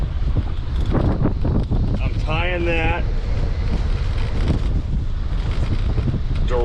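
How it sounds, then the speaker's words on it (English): A gust of wind at sea while saltwater fishing for sheephead, heard as continuous rumbling wind noise on the microphone beneath a voice, with a brief whistling tone in the middle. "Woo, there's a little gust of wind."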